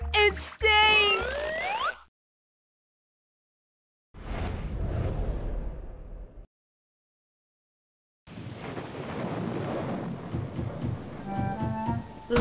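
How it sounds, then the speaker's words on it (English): Rumbling thunder and rain come in separated bursts with silent gaps between them, after a brief squeaky chirping at the start. "It's raining cats and dogs!"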